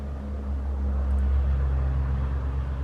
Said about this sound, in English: there's a loud truck outside. I am too close to the highway.